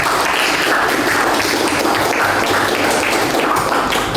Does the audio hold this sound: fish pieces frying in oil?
no